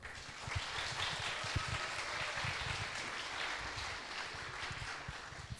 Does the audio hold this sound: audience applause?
yes